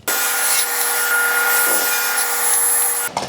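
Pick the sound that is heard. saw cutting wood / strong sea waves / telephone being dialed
saw cutting wood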